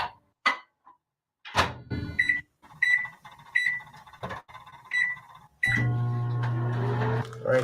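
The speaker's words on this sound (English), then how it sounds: "Those chimichangas I mentioned earlier, we're going to put those in the microwave." A microwave oven heating chimichangas: several short keypad beeps and clicks of the door, then the steady hum of the oven running.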